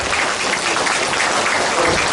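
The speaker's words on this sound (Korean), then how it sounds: "도와주신 분들 모두를 위해서 큰 박수 부탁을 올리겠습니다." A crowd applauds at an outdoor village feast, the Yeomjeongol summer Bok festival held for elderly guests, giving a steady, dense, fairly loud round of clapping with no voices on top.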